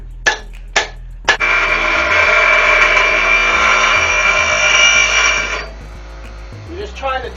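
Three sharp metallic strikes ring out as an axe head is pounded onto a newly carved handle, followed by a sustained whining tool noise that later cuts off, with a few softer knocks at the end.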